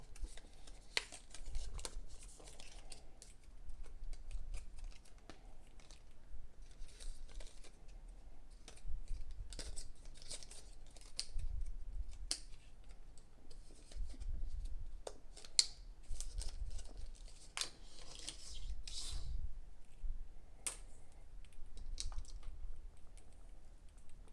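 Apple EarPods cardboard packaging being opened up close: soft scraping, peeling and crinkling with scattered small taps and clicks, quiet and intermittent.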